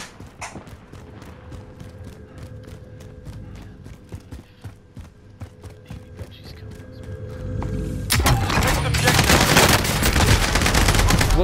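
Heavy automatic gunfire from Call of Duty: Modern Warfare, rapid bursts of shots crackling over a rumbling game backdrop, swelling into a dense, loud barrage near the end.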